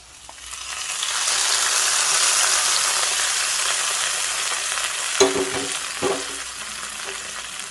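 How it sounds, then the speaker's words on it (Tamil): Sweet kodo millet pongal boils in a clay pot off the heat, steady broadband bubbling and hiss continuous throughout, with a couple of brief clinks near the end. "இது மண் பாத்திரம் அப்படிங்கிறதுனால கொதிச்சிட்ருக்கு."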